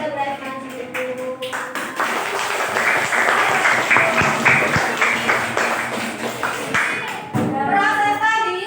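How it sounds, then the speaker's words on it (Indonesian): A classroom group gives applause for students after a Quran reading session, a dense sustained clapping lasting several seconds, close and fairly loud, with voices mixed in. "kita kasih aplaus dulu untuk teman-teman yang sudah berhasil ngaji dulu"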